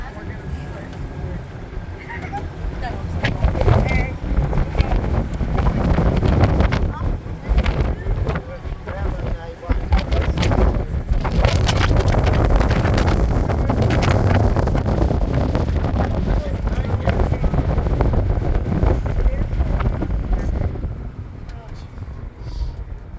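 Strong wind blasts across the Michigan dunes, roaring and buffeting the microphone in loud, continuous gusts from start to finish while people talk beneath it.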